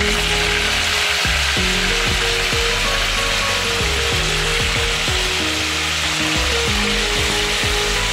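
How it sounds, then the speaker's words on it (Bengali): Cauliflower florets drop into hot salted oil and fry with a loud, dense crackling sizzle, full of rapid rattling pops that persist throughout. "তারপরে আমি ফুলকপিগুলো দিয়ে দিলাম। ফুলকপিগুলো একটু ভেজে নিব।"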